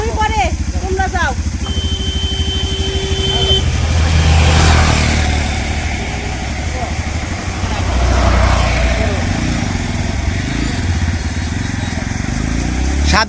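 A motorcycle engine runs with a steady mid-pitched drone that swells and recedes, on a village road, with voices talking over it and a brief tonal beep early on.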